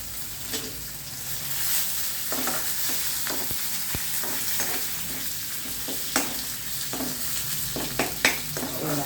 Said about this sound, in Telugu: మనము తాలింపు వేసినప్పుడు మాడిపోకుండా ఉండాలంటే సిమ్లో పెట్టుకుని వేయించుకోవాలి